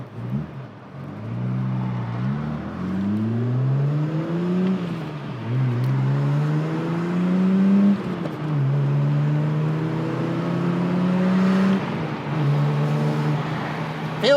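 A BMW E36 M3 engine revs loudly and close up, pitch climbing and falling in repeated sweeps as it is blipped through downshifts, with no talking over it.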